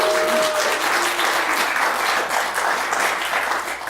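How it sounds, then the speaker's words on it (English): A cinema audience at the Joy Cinema and Pub's Weird Wednesday screening applauds steadily, a dense wash of clapping filling the room for the full four seconds. "Give yourselves a round of applause"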